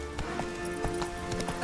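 Roach, the horse in The Witcher 3, gallops at a quick, even pace, and each hoofbeat lands clearly and close.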